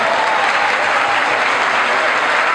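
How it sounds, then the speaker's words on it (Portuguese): Dense, loud applause from a crowd at a rap battle semifinal, continuous sustained clapping filling the whole moment without a break. "uma salva de palmas pra essa semifinal aí"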